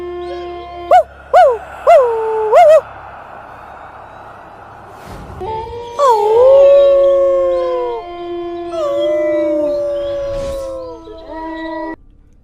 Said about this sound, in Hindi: कुत्ते और भेड़िए की आवाज आ रही थी।